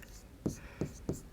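Three short pen strokes on paper while working through a maths problem, distinct scratchy marks spaced evenly, close by, with a voice speaking around them.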